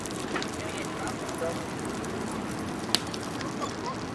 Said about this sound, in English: We're having a bonfire at our campsite.